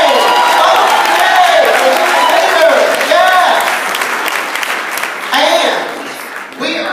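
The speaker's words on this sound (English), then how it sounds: "Can I get a round of applause?" A crowd at a political rally bursts into loud, dense applause with cheers that swells and then tapers off, while a voice talks over the clapping.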